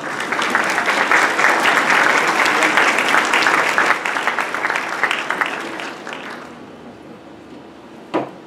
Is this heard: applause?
yes